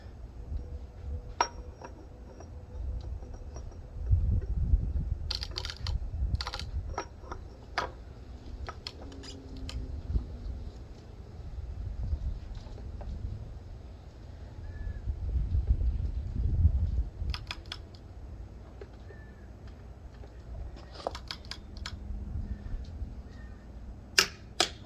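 Torque wrench clicking while tightening lug nuts on a Can-Am Ryker wheel, sharp metallic clicks in uneven clusters over a quiet garage background, with no talk.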